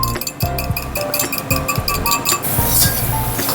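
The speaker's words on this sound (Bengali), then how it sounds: "দইটাকে এবার ভালো মতন করে একটু ফেটিয়ে নেব" Sour yogurt whisked in a bowl, producing a quick series of bright, ringing clinks as the utensil strikes the bowl, with a softer scraping swirl toward the end.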